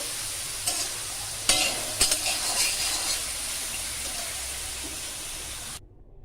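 Sprouted wheat is dry-roasted in a pan, giving a continuous soft sizzling hiss. A few sharp stirring scrapes and clatters break through in the first seconds, and the sound then cuts to silence at the very end.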